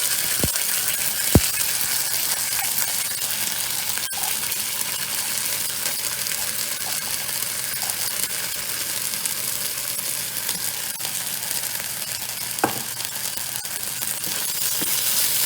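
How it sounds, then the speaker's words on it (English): Blended masala of ginger, garlic and cumin sautéing in a pan with onions for chicken fry, a steady soft sizzle with occasional sharp clicks of a utensil against the pan. "I'm going to saute this until the raw smell of the ginger and garlic has gone"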